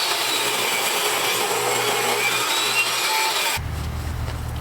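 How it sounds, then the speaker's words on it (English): A saw cutting a piece of wood down to about 9/16 inch thickness in a truck camper build: a loud, steady whirring cut that stops abruptly near the end, leaving a lower hum. "So I'm going to cut this at about 9/16 of an inch."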